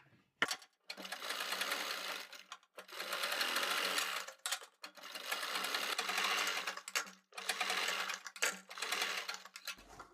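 A sewing machine runs anchor-thread stitching on a kurti pattern in several fast whirring bursts separated by short pauses, close and fairly quiet.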